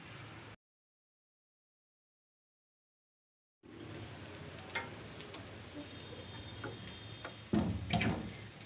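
Spices frying in oil for a Bengali chicken curry, a soft steady sizzle with small crackles and ticks. It starts after a stretch of complete silence, and a few louder pops and stirring scrapes come near the end.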